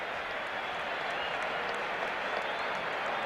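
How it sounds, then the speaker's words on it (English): Baseball stadium crowd at a Royals–Twins game applauding an outfielder's leaping catch attempt at the wall, a steady wash of clapping and crowd noise heard from a distance throughout. "And the crowd here applauding the effort by Tom Brunansky"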